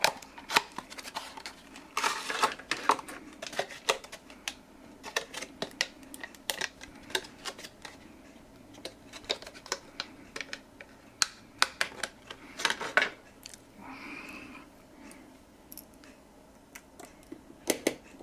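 A desktop Raspberry Pi base case that holds an M.2 SATA drive is handled and pried open, giving scattered close plastic clicks, snaps and light rattles with quiet pauses between them.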